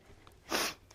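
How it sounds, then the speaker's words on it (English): A single short sneeze outdoors in a dusty garden during planting, a brief breathy burst close by against quiet background. "The sneeze got me."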